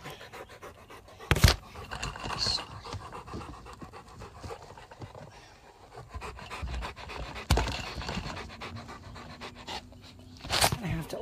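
A dog pants close to the microphone in quick, steady breaths, with a few louder bumps and faint background noise.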